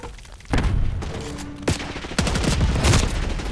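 Dense bursts of rapid gunfire mixed with heavy booming grenade blasts in Call of Duty: Black Ops 6, loud and continuous for several seconds, with no talking.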